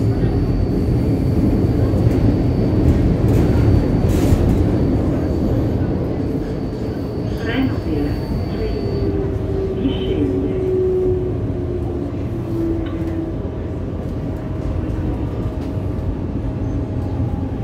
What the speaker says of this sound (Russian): Смотрите сейчас, как будет заворачивать поезд.